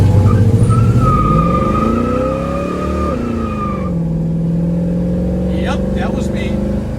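A 1966 Ford Mustang GT350 tribute roars hard under acceleration, engine pitch climbing and shifting while the tires smoke, loud and close; a brief voice speaks near the end.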